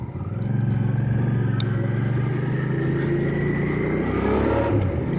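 A Hyosung GV650 Aquila 650cc sports-cruiser motorcycle engine runs close by, a steady loud low rumble that rises slightly in pitch as the revs build, with no talk over it.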